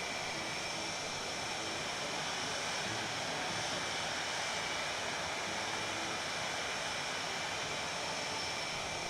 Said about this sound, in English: Just cruising around in our hairdryer.